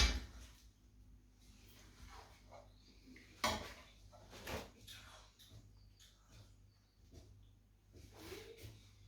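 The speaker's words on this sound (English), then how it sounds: "now I'm just going to serve the curry on top" Lamb curry spooned over basmati rice on a plate, with clinks and scrapes of a serving spoon against a dish, a sharp knock near the middle, then softer scraping.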